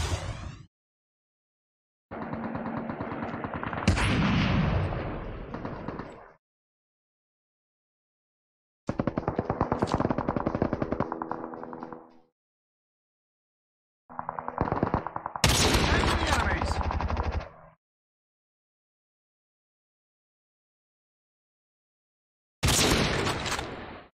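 Bursts of automatic gunfire from the mobile shooter Call of Duty Mobile in battle royale mode, loud and close, arriving in four separated volleys of several seconds each with silent gaps between.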